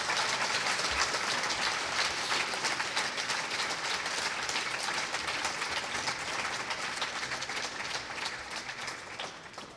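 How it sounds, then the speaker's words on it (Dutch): Applause for the speakers closing an event, a steady wash of many hands clapping that fills the whole stretch at an even level and tapers slightly toward the end. "Groot applaus voor alle sprekers."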